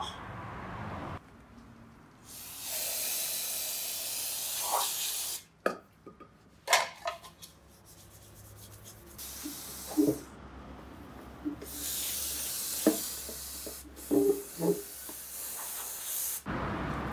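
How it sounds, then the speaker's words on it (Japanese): Cheap lacquer spray paint hissing from an aerosol can onto an FRP repair in several long bursts, with short pauses and some handling clatter between them. "今回はこの安物のラッカースプレーで塗っていこうと思います。"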